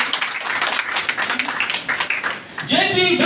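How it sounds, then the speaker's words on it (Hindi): Audience at a Labour Party (S) political gathering giving scattered, fairly close claps to welcome the newly named national president, mixed with loud talk and crowd voices. "जोरदार तालियों से स्वागत करिए।"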